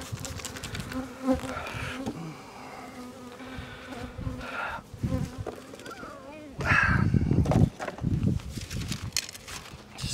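Honeybees in a hive box are spritzed, giving a dense, close buzzing that fills the whole stretch, with louder rough bursts and handling noises toward the end.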